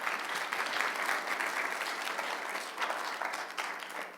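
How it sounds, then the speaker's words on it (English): Audience at a university undergraduate competition applauding the judges: continuous, even clapping from a sizeable crowd, moderately loud and unbroken for its whole length, with no speech on top. "please join me in a round of applause for our judges"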